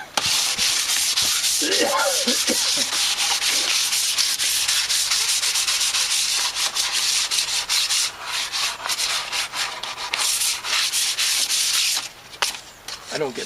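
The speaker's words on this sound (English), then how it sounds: "I don't get fussy with sanding." Steady, continuous sanding of wood, a dense raspy rubbing that carries on for several seconds with brief pauses and shifts near the end.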